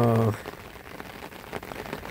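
Light rain patters softly and steadily on a surface, faint and close, after a brief tonal sound at the very start.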